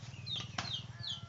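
A five-month-old hen on a farm clucks softly and repeatedly, close by, with a few higher squawky notes over a low, faint murmur.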